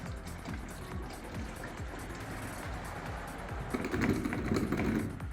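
Coolant concentrate pours from a bottle into a container while working on a wrecked Ford Fiesta, a close glugging liquid stream with rhythmic gurgles, growing fuller and splashier toward the end.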